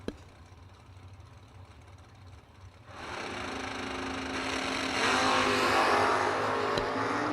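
Drag race cars launch at a strip, one of them a 4th gen Camaro. After a quiet, hissy lead-in, a broad, roaring engine blast builds loud and sustained to the end.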